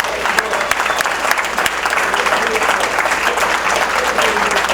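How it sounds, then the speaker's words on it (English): Sustained applause from a gala audience at a Toastmasters 60th anniversary celebration, dense steady clapping filling the room for several seconds at close range, with faint voices mixed in. "How about a round of applause again for all of our speakers today?"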